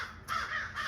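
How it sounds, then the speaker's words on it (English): Three crows perched in a nearby tree give loud, harsh caws in two close bursts, with no talking. "these 3 crows just flew over on the tree over here"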